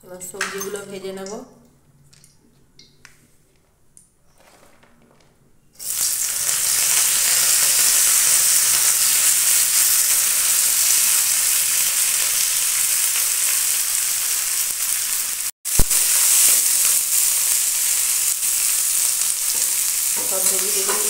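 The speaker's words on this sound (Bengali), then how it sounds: "এবার সবজিগুলো ভেজে নেব।" Vegetables fry loudly in a hot wok with ghee and a little oil, a steady close sizzle with stirring and utensil scrapes that runs for about fifteen seconds after a quieter start with brief clinks.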